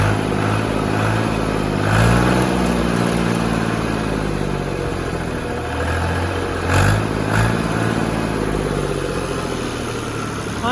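A Fiat 480 tractor, model year 2000, runs with a loud, steady diesel chug close by, swelling in two brief revs along the way.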